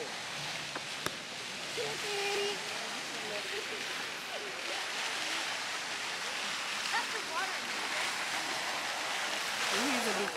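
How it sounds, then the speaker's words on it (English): A small outdoor waterfall gives a soft, steady rushing hiss that stays faint and even from start to finish. "Show you guys the cute waterfall."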